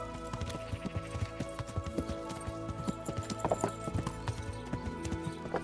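Horse hooves clip-clopping in the video game Kingdom Come: Deliverance, a steady, brisk run of close hoofbeats over a constant background of game ambience and music.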